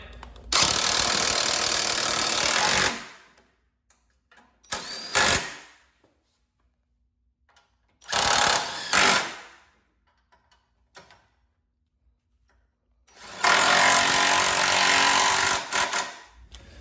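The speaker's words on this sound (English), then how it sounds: "now we're going to go ahead and tighten down these bolts to the crash bar. Takes a 15 millimeter socket" A power tool drives the 15 mm socket, tightening the crash bar bolts on a Fiat 500 Abarth during a turbo and exhaust manifold install. Three loud, close whirring bursts of a few seconds each are separated by quiet gaps.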